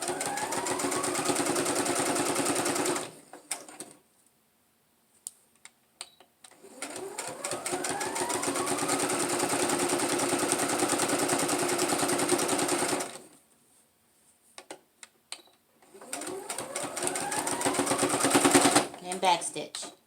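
A sewing machine stitches a placemat laptop bag in three long runs of fast, steady whirring, separated by short quiet pauses with small clicks, including a back stitch; a voice speaks briefly between runs.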